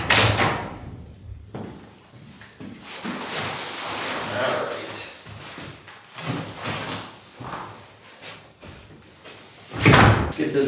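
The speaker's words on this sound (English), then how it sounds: "Get this window open and make sure it's gonna fit." A window being opened in an off-grid house under construction in the woods, with sliding scrapes, thumps and a loud bang near the end mixed with people talking nearby.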